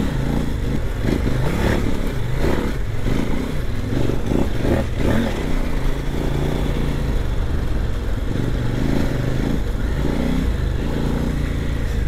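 KOVE 800 Adventure motorcycle engine droning steadily while riding, a loud continuous mechanical roar with wind and road rumble throughout, no pauses.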